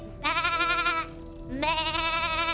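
A voice imitates a sheep, giving two drawn-out, wavering bleats separated by a short pause, close and fairly loud.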